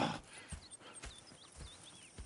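Horse hooves in the video game Red Dead Redemption II clip-clop in an uneven walking rhythm over a soft ambient background, with faint bird-like chirps, fairly close and moderately quiet.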